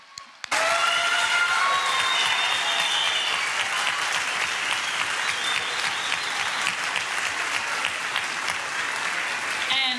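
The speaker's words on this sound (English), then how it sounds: "Let's give them another round of applause" An elementary school spring concert audience erupts into a loud, sustained round of applause that bursts in suddenly and continues steadily, with faint cheers and voices mixed in the crowd.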